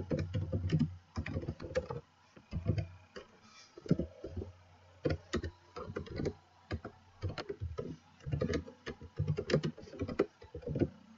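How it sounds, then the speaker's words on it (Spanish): Close, clicky typing on a computer keyboard while entering records into a Microsoft Access 2013 table, with irregular bursts of keystrokes broken by short pauses and the occasional heavier key press, no voices. "Escribimos el valor del primer campo del registro y pulsamos Enter"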